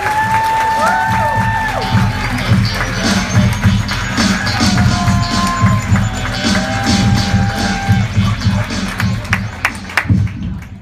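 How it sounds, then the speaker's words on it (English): Loud audience applause and cheering for a stand-up comedian, a dense wash of clapping with whoops and shouts rising over it, sustained for several seconds while a few voices call out close by. "Huge round of applause for our guest comedian of the night, Mr. Kory, please!"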